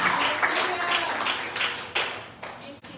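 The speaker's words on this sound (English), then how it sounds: "Will you clap your hands unto the Lord?" A church congregation claps hands during a sermon, rhythmic and uneven applause with distinct sharp claps standing out, moderately close, with some voices mixed in underneath.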